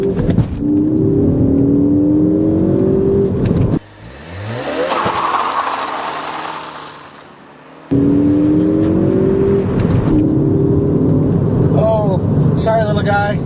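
A 2013 Ford Focus ST with traction control switched off accelerates hard, its engine note climbing steadily in pitch through a gear, dropping into a muffled stretch, then pulling up again loud and close.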